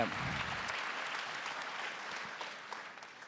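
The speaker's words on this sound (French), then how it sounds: "Je crois que Ludwig, on peut l'applaudir pour cette merveilleuse description" Audience applause at an awards ceremony for a craftsmanship prize, a dense, even wash of clapping from many people, fairly distant and faint, holding steady before easing slightly toward the end.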